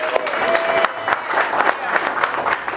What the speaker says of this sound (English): Give DJ and Crystal a round of applause for setting this up.